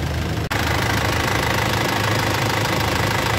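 A 16-year-old Isuzu Crosswind's 4JA1 2.5-litre turbo diesel idles steadily and loud, a continuous knocking rumble with a brief cutout near the start and no talk.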